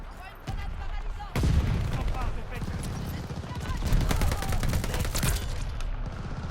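Automatic weapon fire in the video game Call of Duty Vanguard, with dense bursts of rapid shots, booming impacts and a clattering mix of game effects, loud and close, running continuously after a quieter opening.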